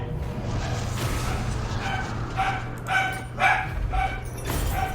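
A dog gives several sharp barks while running through a house. The barks come in quick bursts over a steady low hum, with no talking.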